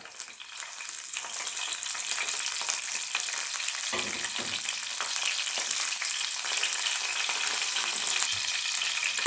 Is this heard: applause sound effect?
no